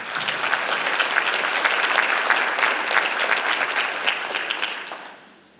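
Steady applause from an audience at a high school female athletes of the year awards ceremony, dense clapping that holds for several seconds before fading out.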